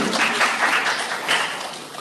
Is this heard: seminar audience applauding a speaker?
yes